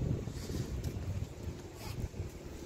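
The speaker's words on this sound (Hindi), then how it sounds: "आज बहुत ही पवन है" Strong gusting wind buffets the microphone outdoors near the sea coast in Gujarat, a steady low rumble and roar with no speech throughout.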